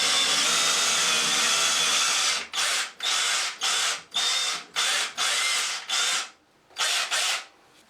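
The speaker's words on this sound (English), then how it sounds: "To drill the holes, I'm actually just using a standard SDS masonry bit." An SDS drill with a standard masonry bit bores 14mm holes through bathroom wall tile: a long, loud, steady grinding run, then a string of short, evenly spaced bursts with brief pauses between them.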